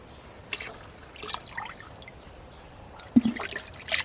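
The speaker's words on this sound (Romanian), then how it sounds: "Este momentul ca să punem și să diluăm această soluție în 5 litri de apă" A yeast and sugar solution is poured into five litres of water in a bucket, giving faint intermittent trickles and splashes with a sharper splash near the end, fairly quiet and without talk.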